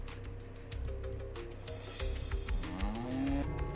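Cattle mooing in the video game America: No Peace Beyond the Line, several overlapping low bovine calls over a steady game background, one rising moo standing out near the end.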